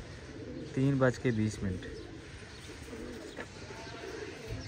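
Pigeons at a loft give a few low, throaty coos close by near the start, then fall quiet under a steady background hum, with someone talking over the scene.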